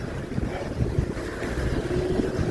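Warm wind blowing outdoors around noon, a steady low rumble buffeting the microphone with uneven gusts, no talk.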